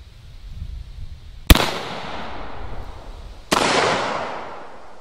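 A Zeus 12 gauge shotgun loaded with Ballistic Products Piston Skeet shells, 1 ounce of shot, fires twice through a full choke from 25 feet. Two sharp, loud blasts about two seconds apart, each trailing off in a long outdoor echo.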